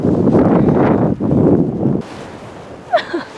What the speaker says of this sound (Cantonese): 超大風啊！